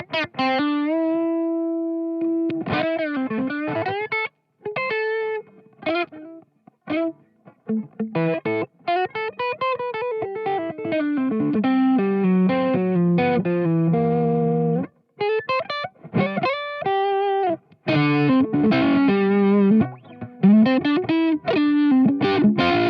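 Electric guitar played through a Valco Bloodbuzz fuzz pedal in overdrive mode, thick distorted notes and chords with sustained tones, short bends and brief pauses between phrases, loud and close.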